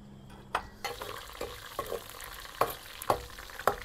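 Onions browning in a pot for chicken haleem, a steady low sizzle broken by several sharp scraping stirs of a spoon against the metal, close and moderately loud with no voices.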